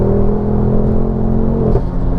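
A Ford Focus RS Mk3 engine revs hard on the throttle while driving in second gear, a loud, steady, close growl that swells slightly near the end.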